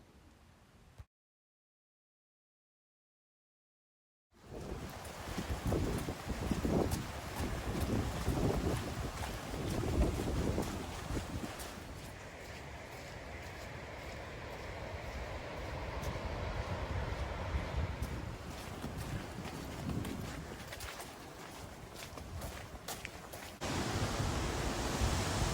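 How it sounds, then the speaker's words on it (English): Strong wind up on the fells around Haystacks, a loud sustained roar battering the microphone in rising and falling gusts after a brief silent gap, close and continuous. "the speed of the wind was incredibly strong at ground level"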